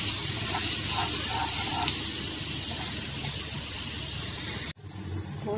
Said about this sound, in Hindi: अब प्याज को डाल देंगे और इसको सुनहरा होने तक हम इसको भूनेंगे